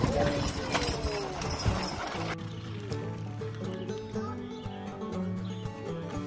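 Horses at a ranch barn at evening feeding time, with hoof clip-clop and a brief whinny heard over steady background noise and some talk.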